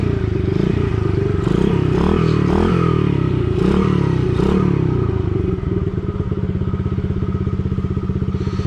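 A gas dirt bike engine warms up close by, giving several sharp throttle blips and rattly revs before settling into a steady, popping idle.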